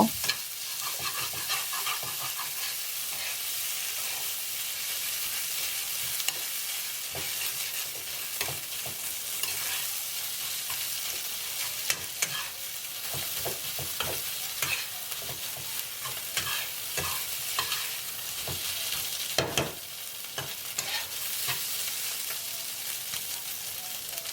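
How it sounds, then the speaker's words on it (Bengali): Taki fish fries with salt in a pan under a constant sizzling hiss, while a utensil stirs and scrapes it in scattered taps and scrapes throughout, close and moderately loud, with no speech. "লবণটি দিয়ে আমি খুব ভালোভাবে মাছটিকে নেড়ে নিব"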